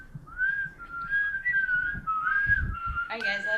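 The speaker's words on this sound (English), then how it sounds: "There's some good whistles." A clear melodic whistle runs almost continuously, wavering up and down in pitch, with faint background murmur and a brighter burst of sound near the end.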